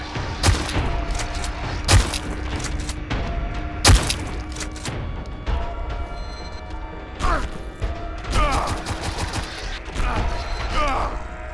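Several sharp gunshots fired in the horror video game Apartament 1406, with loud, spaced bangs near the start and a later burst of clustered shots, over mechanical clatter and low game ambience.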